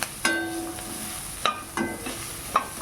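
Onions fry in hot oil for sambar, a steady close sizzle broken by a few sharp scrapes and clinks of a spoon stirring the pan, no voices.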